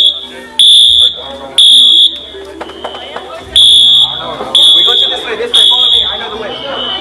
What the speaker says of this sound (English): I accidentally set off the fire alarm.